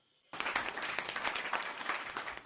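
Sudden burst of applause on a radio morning show, dense steady clapping that starts abruptly after a brief quiet moment and continues loudly to the end.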